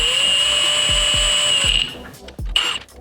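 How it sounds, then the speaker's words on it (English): An impact gun spins wheel spacer nuts onto a vehicle hub: a steady close whine with a few sharp rattling bursts, then it stops and small clicks follow. "I'm just using the impact gun to spin these on"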